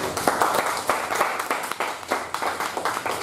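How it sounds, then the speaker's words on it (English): A modest crowd applauds at a Friendship Day gathering, a fairly steady patter of many hands with sharper individual claps poking through, moderately loud and without talk. "So let's give a big round of applause for us."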